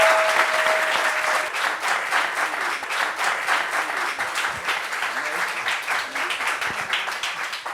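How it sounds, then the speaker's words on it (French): A studio audience on a French talk show applauds a guest, a computer scientist, with dense sustained clapping that stays steady and loud for the whole stretch, a faint tone briefly audible early on. "Applaudissements pour lui."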